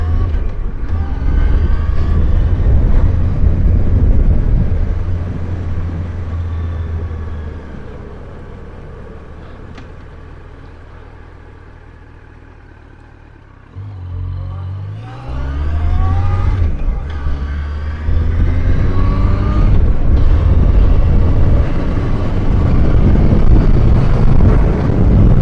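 Strong wind buffeting rushes over a helmet while riding a Yamaha FZ1 motorcycle with a windscreen. The roar is loud and continuous, eases midway, then swells again over a low engine drone.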